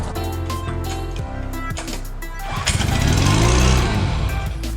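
A Honda outboard motor gets pull-cranked on starting fluid, a rattly chugging turnover that catches and briefly roars up louder and rougher before sputtering, heard close with no talk.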